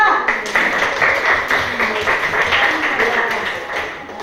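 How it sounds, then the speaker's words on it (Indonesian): A classroom of eighth-grade students clapping for a group that has just presented, steady dense hand claps filling the room at moderate loudness. "Coba tepuk tangan untuk kelompok 4."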